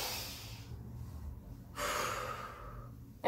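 A deep breath is drawn during a family yoga session. A soft close airy inhale and exhale are followed by a second, stronger rush of breath, with no talking.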